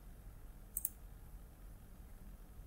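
A quick double click of a computer mouse, close and crisp, in an otherwise quiet room.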